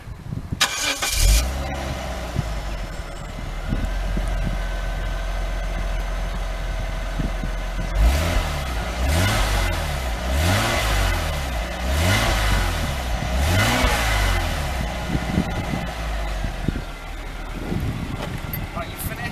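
A Jaguar XJ Executive cranks and fires, settles into a rough idle, then revs in several rising and falling pulls before easing back to idle, close by with brief speech in the background.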